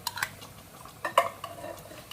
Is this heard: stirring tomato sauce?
yes